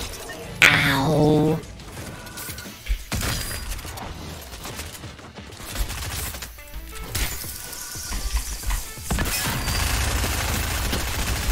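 Gunfire in the video game Fortnite comes as bursts of sharp shots and rattling fire, with a loud crash near the start, over layered game noise and chatter.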